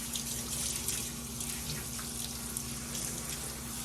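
Steady stream of tap water running into a bath while a dog named Bart is rinsed, a continuous close hiss with a constant low hum underneath and no voices.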